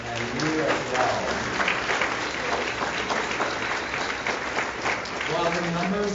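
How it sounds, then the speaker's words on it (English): Audience applause at a service and appreciation day at a health sciences university: sustained, dense clapping from a sizable crowd, fairly loud, with voices murmuring underneath. "Give those organizations a round of applause, and you as well."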